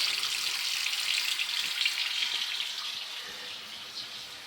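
Hot water runs steadily from a faucet into a newly installed kitchen sink in a tiny house, a continuous close hiss and splash that eases off slightly toward the end.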